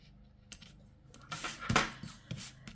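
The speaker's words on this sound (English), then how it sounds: "let me just cut that thread nice and short" Scissors snip sewing thread short after a small notebook cover is stitched: a few sharp, close clicks spaced apart, with light rustling between them in a quiet room.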